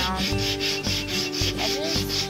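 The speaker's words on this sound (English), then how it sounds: "Couple of these edges were a little bit rough, so I did grab some 80 grit sandpaper." Hand sanding the rough edges of reclaimed wood with 80 grit sandpaper: steady rhythmic back-and-forth rasping strokes, close and continuous, with no talking.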